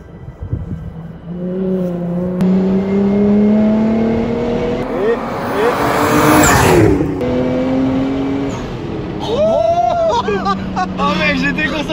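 A race car on a timed track lap roars past with rising and falling engine pitch, loud and close, with crowd babble and voices behind it.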